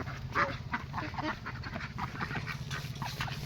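Wild ducks of mixed species quack repeatedly in short, overlapping calls over a steady low outdoor rumble, fairly close and moderately loud, with no talking.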